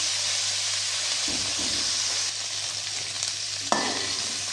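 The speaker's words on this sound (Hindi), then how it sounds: "ये तो देखिए गोभी जो है ना इसको हल्का हल्का मैं फ्राई कर रही हूँ" Cauliflower frying lightly in a pan gives a constant, dense sizzle with a low steady hum beneath it, a couple of soft stirring bumps, and one sharper utensil knock near the end.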